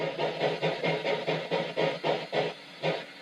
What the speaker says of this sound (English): We have steam and chuff.